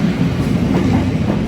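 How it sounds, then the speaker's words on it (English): A Thameslink train led by unit 700-119 arrives at a London station, a loud, steady rumble of wheels and traction with faint rhythmic rail clatter, heard close and alone. "Incoming is the 10:21 Thameslink service from"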